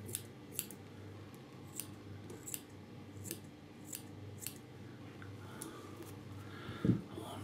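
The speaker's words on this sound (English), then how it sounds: "trim fairly close to the hook, try and get a nice curve" Scissors trimming fly-tying material close to the hook on an articulated squid fly, with about a dozen crisp, evenly spaced snips at close range in a quiet room.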